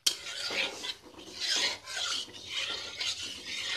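Almond paste being stirred into a paneer curry in a pan, a near, repeated raspy scraping of a spoon against the pan in uneven strokes, with no talk.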